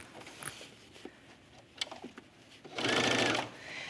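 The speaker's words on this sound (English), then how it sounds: "look how fast I'm sewing, and I'm still getting a great stitch" A sewing machine top-stitches a blouse sleeve for a bow cuff, with a short, steady, fast whir of stitching standing out after some quieter handling clicks.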